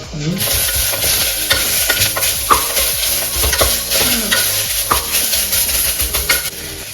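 Chicken kabsa ingredients with ginger, garlic and coriander leaves sizzle loudly in a pan while a utensil stirs and scrapes through them steadily, close and continuous, with no voices.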